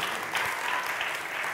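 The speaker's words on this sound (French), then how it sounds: "Est-ce qu'on peut applaudir le Seigneur pour ça?" Brief burst of congregational applause in a church, steady clapping at moderate level with no talk.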